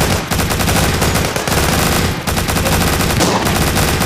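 Machine gun fire in the zombie shooter game Walking Zombie 2 rattles on almost without a break for four seconds, loud and dense, with a few short gaps between bursts.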